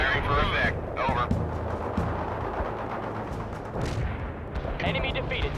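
Heavy artillery barrage in the World in Conflict video game: dense rumbling booms and blasts pile up continuously, loud and close, with radio-style voices talking over the fire.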